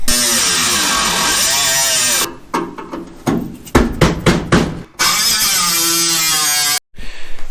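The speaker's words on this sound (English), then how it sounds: "I got all my edges cleaned up, all my old spot welds ground down." A grinder wears down old spot welds on a Chevy Nova tail panel, with long loud stretches of abrasive grinding broken by short bursts and pauses.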